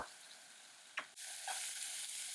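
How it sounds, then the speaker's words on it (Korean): Crumbled tofu frying in a hot pan to drive off moisture, a soft steady sizzle that rises louder partway through, with a few brief scraping stirs of the spatula. "잘게 으깨어 팬의 열기로 두부의 수분을 날려줍니다."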